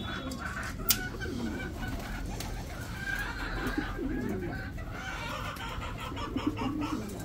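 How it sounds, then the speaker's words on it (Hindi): A busy flock of pigeons cooing and fluttering close by as they fly in to feed on bread, with soft clucking calls and occasional wing flaps over a steady outdoor hum. "देखिए सारे कबूतर उड़ उड़ के आ जाते हैं"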